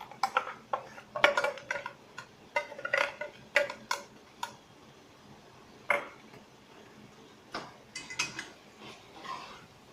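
Ground coconut, garlic and onion paste stirred into chicken biryani in a pot, heard as irregular close metallic clinks and scrapes of a spoon against the vessel, no talking.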